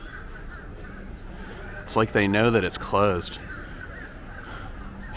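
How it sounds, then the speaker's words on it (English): Crows cawing as a loose flock at Busch Gardens Tampa, harsh calls spread around a theme park area, mostly in the background while a person talks briefly in the middle. "there's like this weird flock of birds just like hanging out"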